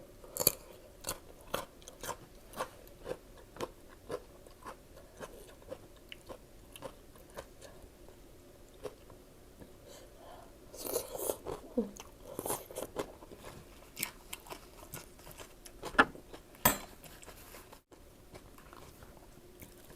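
Crunchy sweet leaf vegetables chewed close up, with repeated crisp biting crunches at an irregular pace over a quiet room, louder bursts clustering near the end.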